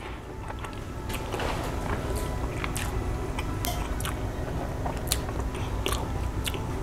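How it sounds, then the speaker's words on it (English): Close, wet chewing and crunchy bites into an herb crusted prime rib roast with horseradish sauce, repeated bites and mastication sounds over a steady low background, no talking. "I have to take another bite."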